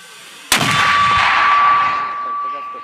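A tank gun fires a single shot in combat near Debaltseve, Ukraine: one sharp, loud blast close by that rings out and decays over about two seconds.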